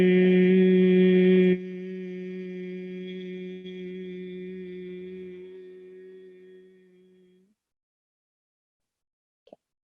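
A sustained hummed tone on a slow exhale as a relaxation breathing exercise, strong and steady at first, then softening and tapering into silence, followed by a tiny faint click near the end.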